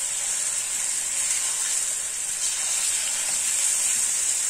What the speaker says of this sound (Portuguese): Ele selou de um lado, você vem e vira, deixa ele selar do outro lado